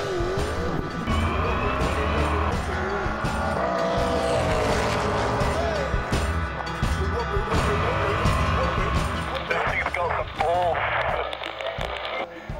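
A Holden Sandman V8 Supercar pulls away for a lap, its loud engine roaring and revving continuously up through the gears, with shifting pitch and a chirp of tires near the end, under radio-like chatter.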